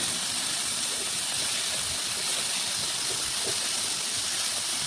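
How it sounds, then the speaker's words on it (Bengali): Pointed gourd (potol) frying in a pan as it is stirred and flipped, a steady loud sizzling hiss that runs through the whole clip with faint scraping underneath. "আবারও কিন্তু নাড়াচাড়া করে পটলটা এইভাবে উল্টিয়ে নিচ্ছি"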